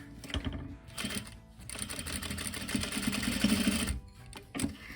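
A sewing machine stitches a zipper onto a pillow in steady, rapid runs of whirring needle strokes, with brief pauses between bursts and no talking.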